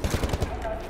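Machine gun fire in the shooter Wolfenstein: The New Order: a short burst of about five rapid, evenly spaced shots, loud and close, over a steady hum of game noise.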